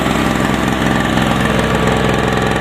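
A Harbor Freight 900-watt, 63 cc, 2 hp two-stroke portable generator engine runs loud and close, holding a steady buzzing drone throughout with no talking.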